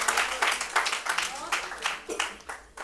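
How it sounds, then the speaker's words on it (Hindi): Clapping from an audience at a poetry gathering in the Delhi Legislative Assembly, a steady patter of many hands with voices mixed in, fairly close and moderately loud. "जोरदार तालियां"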